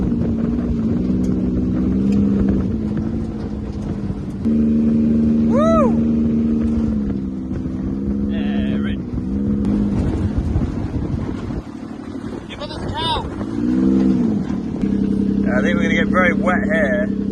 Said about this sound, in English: driving the buggy, you won't be able to hear it, it's very loud